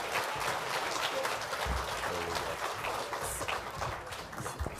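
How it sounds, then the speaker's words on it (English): Applause from the audience at a Canadian film editors' awards ceremony, fairly quiet and dense clapping from a crowded hall with a few low knocks and rustles mixed in, continuing evenly for several seconds. "So this applause is for Gregor."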